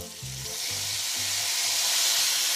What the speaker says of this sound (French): Dans une poêle, on fait revenir de l'ail et des oignons. Là, quand ça devient un peu translucide, on rajoute les tomates.